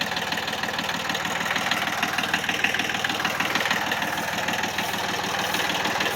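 A small tractor engine idles steadily with its PTO engaged, a close, continuous mid-pitched rumble with a regular knocking pulse and faint mechanical whine, no voices.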